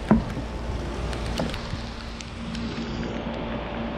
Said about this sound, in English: Fishing in the rain.